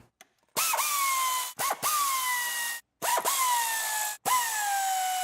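A power tool fitted with an E10 female Torx socket whirs up in four separate whining bursts, each rising in pitch then settling, close and fairly loud, as the valve cover bolts on a four-cylinder engine come out. No voices are heard.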